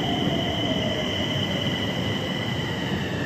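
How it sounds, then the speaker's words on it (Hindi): Metro train arriving at a station, a steady loud rumble of rolling wagons with a thin high wheel squeal running throughout, close by and without any talk. "तो हमारी ट्रेन आ चुकी है, मेट्रो ट्रेन"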